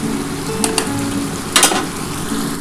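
Ground spice paste for a fresh white aar fish kalia sautés in hot oil with a steady, close sizzle, broken by a few brighter bursts of spatula stirring.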